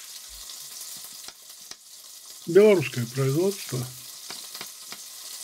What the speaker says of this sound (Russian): Начинаю обжаривать эти плечики.